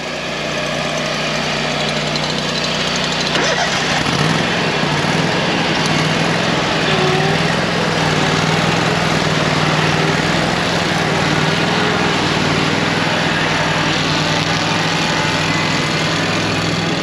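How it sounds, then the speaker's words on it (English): A lawn mower runs steadily on an overgrown lawn, a loud close engine drone with a constant hum that holds unbroken throughout. "Watch the mower."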